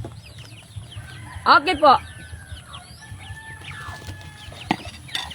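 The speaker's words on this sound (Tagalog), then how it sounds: "Ang mga chicken. Ang dami ko namang chicken." Chickens cluck and peep around a backyard garden while a rooster lets out a loud crow partway through; a person speaks briefly over the farmyard sounds.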